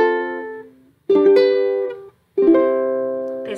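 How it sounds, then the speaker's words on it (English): Three major chords ring out one after another, each struck cleanly and left to sustain and fade, bright and close with short pauses between them. "So major chords sound like this."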